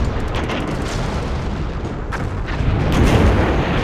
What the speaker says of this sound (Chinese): 飞机、大炮向那个阵地轰